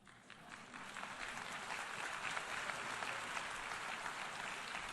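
Audience applause at a UN ambassadors' event against BDS, a steady wash of many hands clapping that swells and holds for several seconds, fairly distant in a large hall.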